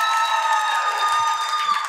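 A television talent-show audience applauds and cheers after a singing performance, a short close burst of clapping and crowd noise over a fading musical tone.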